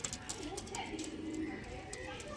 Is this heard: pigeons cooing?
yes